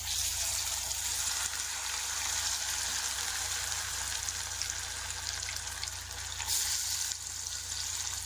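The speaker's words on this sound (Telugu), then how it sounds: "ఇప్పుడైతే నేను ఫ్రై చేసుకుంటాను ఇదిగోండి ఆయిల్ హీట్ అయిపోయింది ఇప్పుడైతే చికెన్ పొడి వేసేద్దాం" Chicken pakoda frying in hot oil, a steady, close hiss of sizzling that holds evenly with a brief swell near the end and no talk over it.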